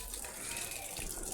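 Water spraying and splashing during a wash, a steady close gush of running water lasting only a moment.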